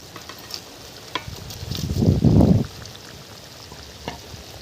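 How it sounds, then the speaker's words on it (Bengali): Pieces of bhola fish slide into a mustard-paste curry at a rolling boil, setting off a loud, brief burst of bubbling and sizzling that stands out against softer simmering and a few light clicks from the pan. "ঝোল ফুটে গেছে, এখন আমি মাছগুলো ঝোলের মধ্যে দিয়ে দেব।"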